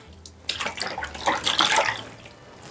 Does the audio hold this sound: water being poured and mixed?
yes